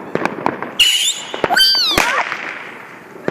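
New Year fireworks rockets whistle upward in descending, wavering tones between sharp explosive bangs and crackles. The bursts are loud, close and come in quick succession, followed by a fading rumble.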